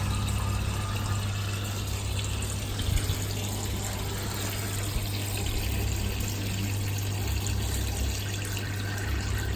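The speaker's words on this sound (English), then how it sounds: "You can see the overflow is still a little noisy, it's still drawing in a little bit of air." Steady flowing water through a Pokpo Genesis aquarium overflow with a low constant hum, gurgling faintly as air is drawn in, continuous and moderately quiet throughout.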